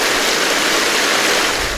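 Strong, steady rush of water flowing through a modified Gold Hog Piglet sluice, a loud continuous broadband wash with no breaks, heard alone.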